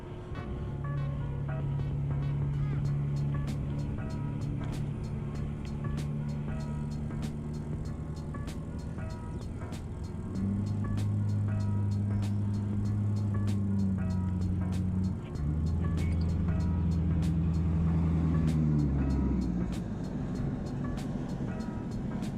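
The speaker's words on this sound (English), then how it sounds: "That diesel sounds mean." A diesel vehicle engine drones loud and close for over twenty seconds, a deep steady rumble that steps up in pitch at several points as it gathers speed, with faint ticking on top and no voices.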